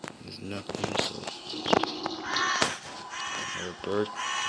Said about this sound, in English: Bird make sound.